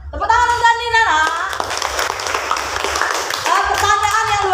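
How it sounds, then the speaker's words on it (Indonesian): Schoolchildren in a classroom clap for their classmate Andina, a short burst of many small hands between a teacher's spoken lines, close and fairly loud. "Tepuk tangan untuk Andina, nak."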